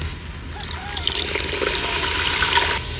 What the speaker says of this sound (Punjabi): ਨਾਲ ਸ਼ਾਮਲ ਕਰ ਦਾਂਗੇ 1 ਕੱਪ ਪਾਣੀ